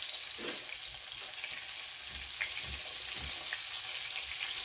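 Pork tenderloin frying in oil, a constant close hiss of sizzling with faint pops and low bumps from movement in the pan, no talking.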